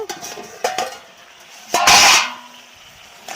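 A metal lid comes off a cooking pot of okra and shrimp, giving a few light clinks and taps and then a loud, hissing rush of steam that fades. It sounds close and there is no talk.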